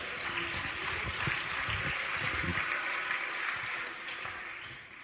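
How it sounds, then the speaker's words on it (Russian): A church audience applauds during a sermon on financial breakthrough, a steady broad wash of clapping with some low rumble, easing off toward the end. "Дайте ему аплодисменты за эту истину."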